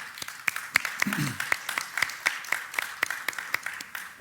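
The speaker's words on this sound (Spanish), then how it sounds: "eso merece también un fuerte aplauso para Pepe." An audience at a panel forum on feminism in comics gives a sustained round of applause, sharp individual claps ringing out quickly and evenly, with a brief murmur of voices early on.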